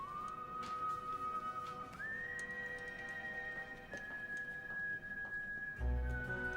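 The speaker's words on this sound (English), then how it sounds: "the sound design reflects Tom's perspective, specifically this whistle." A clear, sustained whistled tone glides upward and holds, then drops slightly near the end, over faint ticking and a soft background in a scene from the film 500 Days of Summer.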